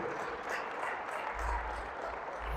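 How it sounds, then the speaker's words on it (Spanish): A church congregation applauds loudly during a worship service, producing a continuous dense wash of clapping with a low rumble beneath and no break. "¿Cuánto le damos un fuerte aplauso al Rey de Reyes?"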